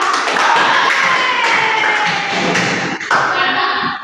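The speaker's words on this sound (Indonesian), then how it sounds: "Tepuk buat Salsa" Classroom applause for a student named Salsa, a steady wash of many hands clapping together close by for several seconds, with a brief dip near the end before it resumes.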